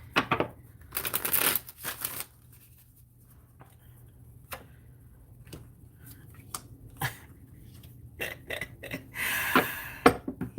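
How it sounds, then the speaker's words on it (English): A deck of tarot cards is shuffled in quick riffling bursts near the start and again at the end, with scattered soft card taps and clicks in a quiet room between them and no talking. "Y'all saw me shuffle this deck,"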